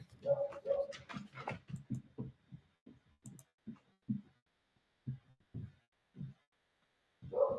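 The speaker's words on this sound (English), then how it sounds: "the dogs were going crazy" Dogs indoors bark and whimper in a string of short, uneven yelps and whines, some rising in pitch, fairly close and moderately loud with brief pauses between.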